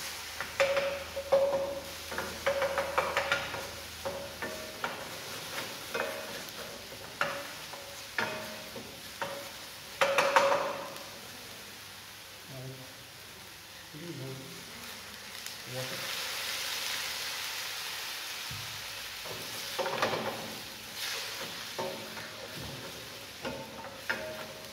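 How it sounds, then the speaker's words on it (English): Onion cooking gently in a pan over low heat as a base for spinach, carrot and lentil soup, giving a soft, intermittent sizzle broken by scraping and stirring clatters, with quieter stretches in between. "we have to just lightly cook the onion, we do not give it a brown color, just the white color, just soften the onion"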